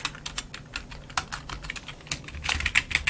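Fingers tapping out a name on a computer keyboard, a steady run of close, crisp key clicks with a denser flurry near the end, no talking.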